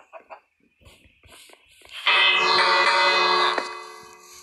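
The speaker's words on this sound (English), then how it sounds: "I'm just gonna quickly ring the bell." A single bell in Minecraft rings out loudly after a few soft footsteps and clicks, its bright metallic tone sustaining for over a second before fading.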